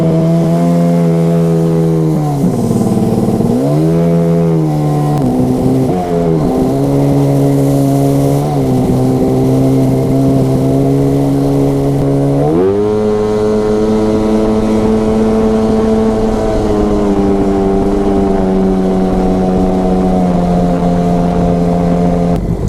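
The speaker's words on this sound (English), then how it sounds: "So as you can see there, throttle response was really crisp, and no hesitation, no loading up." A Sea-Doo XPL 951 two-stroke engine with a Mikuni Super BN 46i carburetor is tested, revving loudly and close by, its throttle blipped several times and then held at a steady high drone, with no talking.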